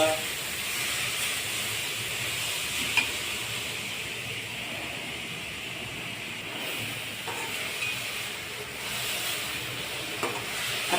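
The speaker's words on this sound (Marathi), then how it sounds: "आता व्यवस्थित भाजून घेणे।" Beetroot halwa roasting in ghee while being stirred, a steady sizzling hiss with occasional soft scrapes of the spoon against the pan, close and continuous, no talking.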